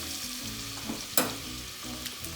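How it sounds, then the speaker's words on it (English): Butter melts and sizzles with bacon in a pot as it is stirred in, a steady crackling fry with one sharp scrape or clatter midway and a few lighter knocks later. "add a 1/4 stick of butter as well. Mix that around."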